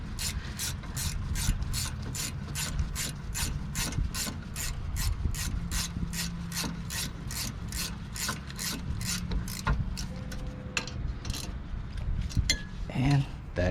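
Ratchet tightening the rear brake caliper bolts on a 2011–2013 Infiniti JX35, rapid rhythmic clicking strokes in quick repeated bursts, close and fairly loud over faint background noise.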